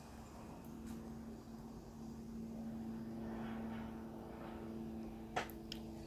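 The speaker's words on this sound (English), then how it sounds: "hello airplane" A propeller airplane flies overhead outdoors, a faint, steady drone with a low hum that swells gently and fades, joined near the end by a single sharp click close by.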